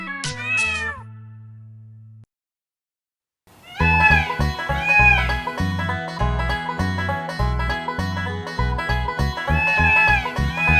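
A sung, cartoonish meow opens briefly, then after a short pause a bouncy melody with beats plays; it's a voice imitating a cat within a Hindi children's nursery rhyme.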